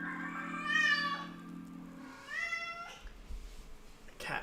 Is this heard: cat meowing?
yes